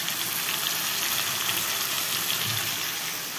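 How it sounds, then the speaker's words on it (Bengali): Dried fish frying in a hot pan gives a dense, continuous sizzle with soft stirring scrapes, close and steady throughout, no voices. "এই দেখো মা বসিয়ে দিয়েছে এরকম টাইপের মাছ"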